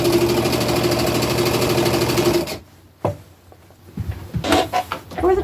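A sewing machine runs a straight stitch along a dress hem with a steady, close mechanical whir for about two and a half seconds, then stops, followed by a few handling clicks and rustles.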